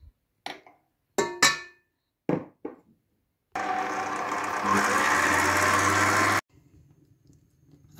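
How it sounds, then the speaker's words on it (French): An electric whisk whips cream of over 30% fat for a raspberry and white chocolate entremet: a few sharp knocks, then a steady, loud motor whir for about three seconds that stops abruptly. "Je vais fouetter ma crème."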